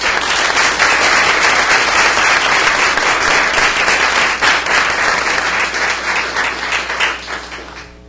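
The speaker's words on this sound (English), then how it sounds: "Give them a round of applause." Audience applause fills a school board meeting, a loud, steady crowd of clapping hands that holds strong for several seconds and then begins to thin and fade toward the end.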